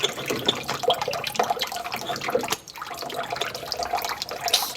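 A teapot pours water, a continuous splashing trickle with small drips, heard up close and at moderate loudness with a brief pause midway.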